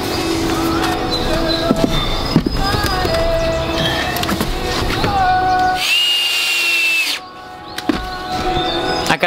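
A power drill drives screws into a deck board on top of a custom wooden deck gate, giving short close whirring bursts with a steady high whine near the middle amid workshop noise.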